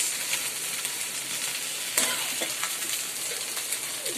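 Red poya fish sizzles steadily in a hot pan, a dense hissing frying sound with occasional sharper pops and crackles throughout, close and fairly loud with no talking.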